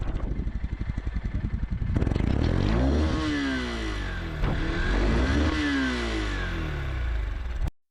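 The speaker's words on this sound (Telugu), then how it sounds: "సో, మనకి ఫస్ట్ మీకైతే ఒకసారి ఎగ్జాస్ట్ సౌండ్ విందాం." A Honda SP 160 motorcycle starts from a steady idle, then its exhaust rises into two strong revs that sweep up and fall back, loud and close, before cutting off abruptly.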